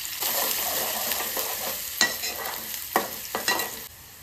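Onion fries with asafoetida in a pan, a steady bright sizzle close up, broken by a few louder stirring scrapes and bursts, with no talk.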